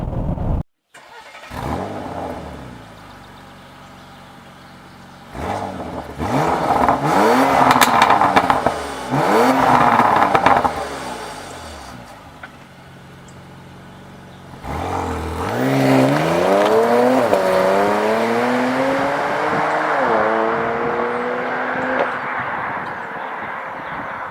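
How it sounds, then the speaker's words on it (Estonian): Porsche Cayenne GTS with a 3.6-litre turbo engine idling, then revving hard in repeated rising roars, with a sustained loud rev climbing near the end; close and alone, no talk. "Kuulame korra nüüd seda heli poolt, kuidas see mootor siis niisama töötab ja kuidas ta möörgab."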